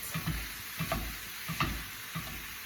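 Two pounds of hamburger frying with onion and peppers in a pan, a steady sizzle broken by regular scraping stirs of a utensil, close and alone without voices.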